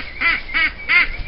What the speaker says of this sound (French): Canard.